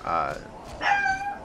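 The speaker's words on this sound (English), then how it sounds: "Sorry, that was my dog." A pet dog gives a couple of short yips and whimpering barks close by, indoors at a home recording setup, with some background voice mixed in.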